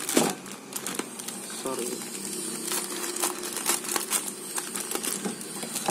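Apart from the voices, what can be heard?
crinkling plastic packaging of Intermi instant noodles being opened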